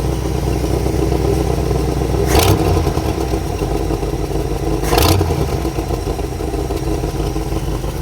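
A car being prepared for a drag race revs in two quick, sharp throttle blips over a steady idle, the engine snapping up and falling back each time, close and loud with no talking.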